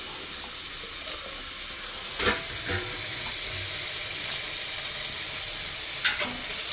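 Curry leaves dropped into hot oil while onions cook for rava upma give a steady hissing sizzle throughout, with a few brief crackling pops and soft stirring clinks.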